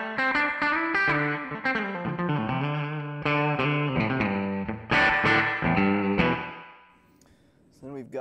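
Electric guitar played through a TC Electronic Hall of Fame reverb pedal on its lo-fi setting: distorted chords and single notes with a lo-fi reverb tail, ringing close and loud, then dying to a faint decay before a last short strum.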